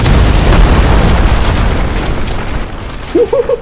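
Loud cartoon explosion booms at a demolition site in a kids' adventure story, a dense, sustained rumbling blast that fades slightly before a short burst of tonal sound near the end.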